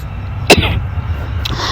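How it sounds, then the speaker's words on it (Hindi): One short, sharp cough rings out close over a steady low hum, followed by faint breathing. "मुझे थोड़ी सी खांसी हो रही है"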